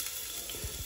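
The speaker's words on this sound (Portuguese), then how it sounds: "Vou jogar água" Water pours steadily into a cooking pot over green-banana meat substitute, a continuous close gushing and splashing with no talk.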